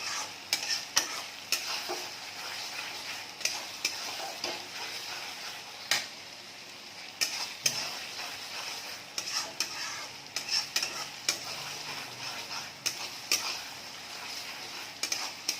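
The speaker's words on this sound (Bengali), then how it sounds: "বাটা মশলাটাকে ভালো করে কষতে হবে।" Ground spice paste for mutton kosha stir-fried in a pan: a steady sizzle with repeated scraping and stirring strokes of a spatula, close and moderately loud, no talking.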